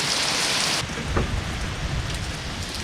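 Steady heavy rain hisses, then eases slightly as a low rumble of thunder rolls under the downpour.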